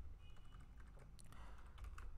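Quick, light keystrokes on a computer keyboard tap in an irregular run while Python code is written, faint and close with no voices.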